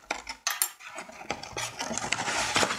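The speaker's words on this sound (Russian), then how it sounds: "Значит, здесь ложечка мерная." A small measuring spoon from a medicine package clinks and rattles as it is handled, with a few sharp metallic taps early on followed by scraping and light knocking.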